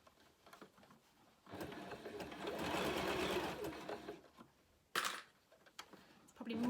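A sewing machine stitching a reusable fabric Christmas cracker, a steady close mechanical whirring run for a few seconds, then a short second burst after a sharp click.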